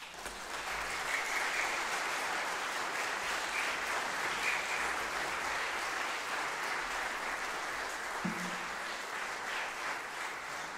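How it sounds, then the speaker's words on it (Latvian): Steady, faint applause from a concert audience at a music school Christmas concert carries on evenly for several seconds, heard from a distance without talk. "Sagaidām ar aplausiem"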